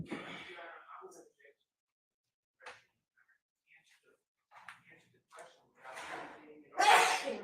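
A single sneeze in a courtroom, fairly quiet and brief, comes near the end of a stretch of faint, scattered courtroom voices and small noises.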